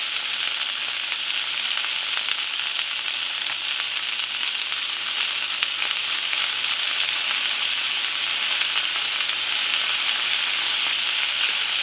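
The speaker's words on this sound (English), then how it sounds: "Put your chicken in your skillet and leave it be for a little bit" Chicken pieces frying in a hot skillet for a stir fry, giving a steady, close, bright sizzle that crackles evenly without pause and with no talking.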